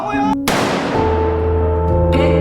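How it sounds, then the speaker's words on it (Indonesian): A single sharp, loud gunshot from a guard shooting a player in the head during the marble game in Squid Game episode 6, bursting out over sustained musical tones that continue afterward. "Kemudian panitia yang ada di belakangnya menembak kepala peserta itu."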